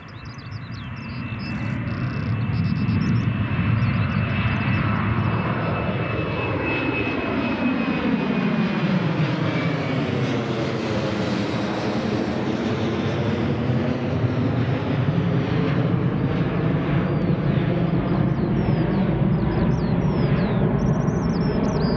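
Airliner taking off at Newcastle International Airport, a loud steady engine roar building and sustained, with a rising then falling whine as the jet climbs away.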